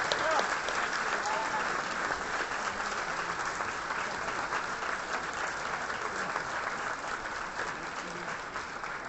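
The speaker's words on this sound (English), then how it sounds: "So please give them a round of applause" Steady applause from an audience honoring community champions at a Hillsborough County equality award event, a dense continuous clapping that holds at even loudness for the whole stretch.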